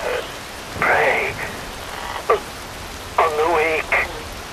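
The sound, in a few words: rain falling in the video game Metal Gear Rising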